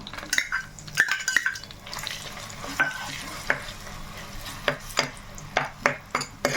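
Onion paste frying in oil in a clay pot, crackling steadily with scattered sharp stirring clicks and scrapes that grow more frequent toward the end, close and moderately loud, with no voices.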